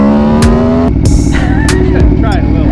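Aprilia Tuono V4 motorcycle engine revving hard close up, a loud rising wail that drops and climbs again in quick throttle blips, with people talking briefly over it.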